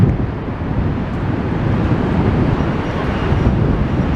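Strong, steady wind buffets the microphone along the Blackpool promenade by the sea rail, a loud, continuous roar with no voices.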